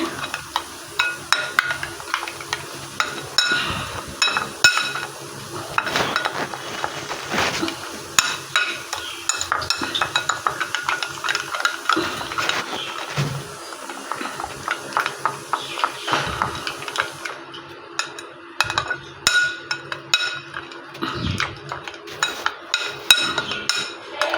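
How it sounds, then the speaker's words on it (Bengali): Curd being whisked in a bowl, a busy stream of quick scraping and tapping strokes with occasional clinks of utensil on the bowl, steady and close throughout. "দইটাকে ভালো দিকে ফেটিয়ে নেব"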